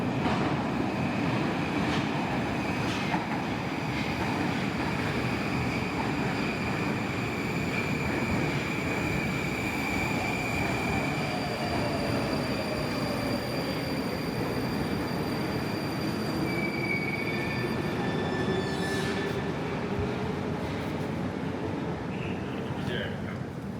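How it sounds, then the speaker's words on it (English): A Moscow Ring Line subway train of the newest model rolls steadily along the rails with a constant rumble, wheels squealing and whining in long rising and falling tones, loud and close. "this is the subway ring line. There are 2022 trains running here, the newest one"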